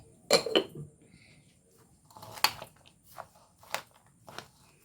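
A utensil stirring a mango and guava mixture in a pan, heard as a few sharp metallic clinks and scrapes spaced irregularly, with quiet gaps between them.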